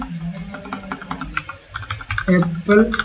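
Quick keystrokes clatter on a computer keyboard as code is entered, close and fairly loud, with a voice talking over the last part.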